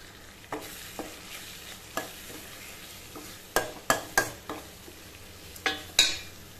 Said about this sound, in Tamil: இப்போ நம்ம அந்த பவுடர் அரைச்சோம் இல்லைங்க, அதையும் நம்ம போட்டு கிளறிக்கலாங்க.